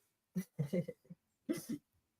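A few close, quiet coughs from a person with a cold come in two short bursts, the second pair after a brief pause.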